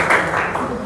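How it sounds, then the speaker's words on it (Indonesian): A short burst of applause from a classroom group, steady clapping lasting under a second. "Terima kasih, tepuk tangan."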